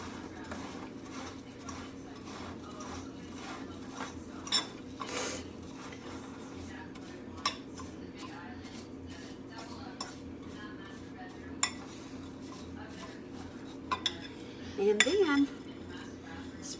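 Salmon casserole ingredients are mixed with butter in a dish, with scattered clinks and scrapes of a utensil against the dish over a low steady kitchen hum, a few louder knocks near the end.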